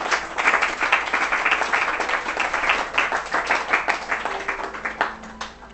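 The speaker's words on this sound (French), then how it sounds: "Acclamons le Seigneur Jésus pour ça." A church congregation claps and applauds together, a loud, dense rhythmic clapping that swells and then gradually thins out, with no talking over it.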